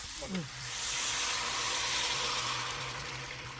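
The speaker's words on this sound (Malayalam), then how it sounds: "കുറച്ച് വെള്ളം ഒഴിക്കണം" Water hits a hot pan of turkey masala in a loud, rising steam hiss that swells and holds for a few seconds before easing, with a brief pouring gurgle at the start.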